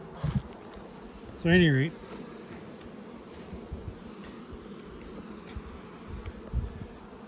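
Honey bees buzz around a beehive during a heavy nectar flow, a steady near drone with occasional louder passes, while someone speaks briefly.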